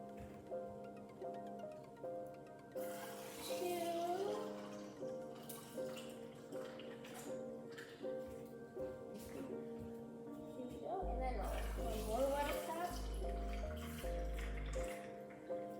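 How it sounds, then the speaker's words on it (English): Water runs from a tap into cups in a kitchen in a couple of gurgling, splashing bursts, with a quieter stretch between them and someone talking faintly in the background. "Fill these up with some water."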